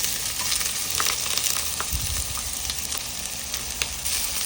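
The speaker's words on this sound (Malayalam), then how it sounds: "പെരുംജീരകം മൂത്ത് വന്നു കഴിഞ്ഞാൽ നമ്മൾ ആദ്യം സവാള അതിലേക്ക് ഇടും" Onion frying in hot coconut oil with fennel seeds crackles in a constant close sizzle, with a few soft stirring knocks and no voices.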